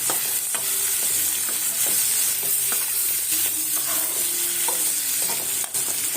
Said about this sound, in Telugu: టమాటాలు వేసుకుందామండి. కూడా కొంచెం బాగా మిక్స్ చేసుకుందాం.